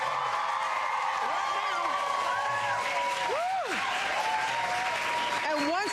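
Morning-show studio audience applauding guests Justin Timberlake and Andrew Garfield, a steady wash of clapping and light cheering with a host's voice calling out over it.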